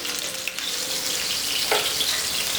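Eggplant slices sizzle and fry in oil in a pan, a steady close crackle with small pops and a brief clink partway through, no voices.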